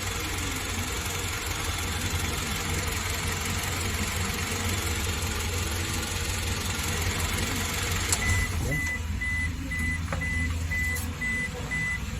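A Toyota HiAce van's engine idles steadily and loudly up close, with a constant low rumble throughout; partway through the background thins out and a faint high tone lingers.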